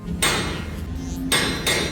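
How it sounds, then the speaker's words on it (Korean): Heavy metallic banging as tools strike a steel door, a few loud clanging hits close by, ringing with short resonant tails. "이런 장비들을 이용해 강철문을 두드려 보지만"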